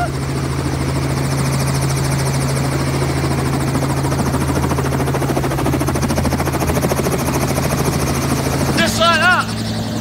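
A helicopter sits on a lake after landing, its rotor and engine producing a loud, constant throbbing drone with a steady whine, and a voice speaks briefly over it near the end.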